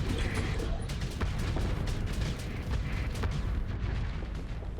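Torpedoes firing and exploding in the space combat game Starsector: a dense, continuous rumble of booming blasts and sharp impacts, loud and layered throughout, with no talk.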